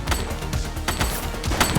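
Rapid gunfire erupts in a police action game, a string of sharp loud bursts in an uneven rhythm packed close together, with a shot roughly every quarter second over a short span.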